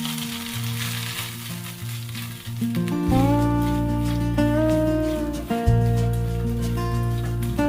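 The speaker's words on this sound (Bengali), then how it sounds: "এটা ভাজা হতেই আমি দিয়ে নিচ্ছি খানিকটা নারকেল কোড়া। এটাকেও আমি অল্প করে একটু ভেজে নেব।" Grated coconut frying in an oiled pan for a vegetarian mung dal and ash gourd dish, a steady close sizzle that runs throughout while soft tonal background music plays, with no voices.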